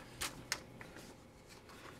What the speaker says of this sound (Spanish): Una máquina de escribir Brother 200